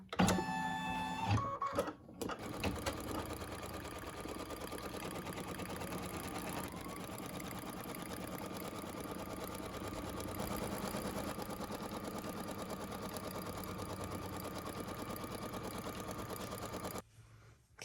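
An embroidery machine stitches placement lines for a cotton in-the-hoop zipper purse, its needle running in a rapid, even mechanical chatter with a steady motor hum after a few starting clicks.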